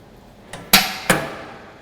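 An Izod impact tester's pendulum hammer is released and strikes an aluminium specimen, giving a faint click followed by two sharp metallic knocks close together, loud and near, against a quiet laboratory background.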